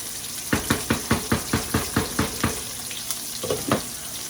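Food stirred in a lidded pot, a run of about ten evenly spaced scraping strokes over a steady sizzle, then a few more irregular stirs near the end, close and clear with no talking.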